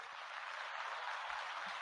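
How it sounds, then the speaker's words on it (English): A podcast host plays an applause sound effect: a short, even burst of crowd clapping and cheering at moderate volume, with no talking over it. "I'm getting better with the applause there"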